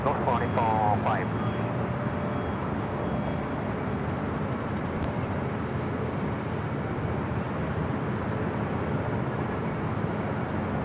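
A heavy jet takes off from runway 24 left at Los Angeles International Airport, its engines a loud, steady roar that holds for several seconds, with a brief radio voice near the start.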